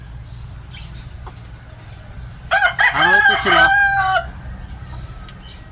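A rooster crows loudly once, a drawn-out call with a few clucks around it, close by, with faint background noise before and after.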